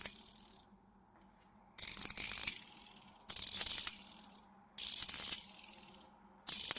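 A fidget spinner toy's rotor is pushed counterclockwise by hand, giving bursts of rapid ratcheting clicks that alternate with quiet pauses, four pushes in a row, close up with no talking.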